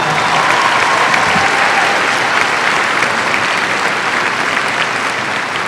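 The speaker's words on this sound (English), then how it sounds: "A round of applause for the 100th graduating class." A high school graduation crowd applauds the 100th graduating class, dense sustained clapping filling the hall at a steady loud level from start to finish, with faint crowd murmur beneath.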